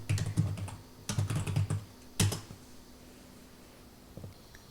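Typing on a computer keyboard to enter a search into Google, heard as three short bursts of rapid clicking keystrokes, then a final pair of taps, close and fairly quiet with no talking.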